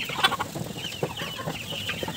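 Native chickens kept as backyard livestock cluck and chatter continuously, with a brief sharper squawk near the start, all close and fairly loud, with no talking.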